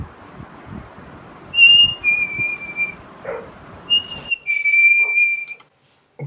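A person whistles a few clear, sliding bird-like phrases imitating a cardinal, with quiet background noise and faint thumps between.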